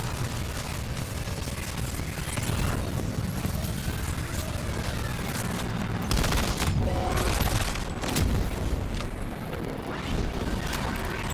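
Rapid bursts of pistol fire with a boosted fire rate crackle through dense game combat in Death Stranding 2, with overlapping shots and blasts running continuously at a steady loud level.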